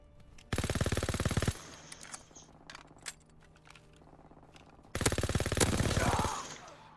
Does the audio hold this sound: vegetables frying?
no